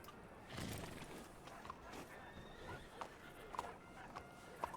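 Bromley, a horse in a roleplay video game, walks with faint, irregular hoof clops and gives a soft whinny, all quiet and distant against a low background.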